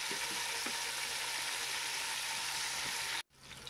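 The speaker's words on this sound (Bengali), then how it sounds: "এখানেও ফুলকপিটা হালকা লাল লাল করে আমি ভেজে নিচ্ছি।" Steady sizzle of cauliflower frying in a pan with a few soft clicks of stirring, ending in an abrupt cut to near silence.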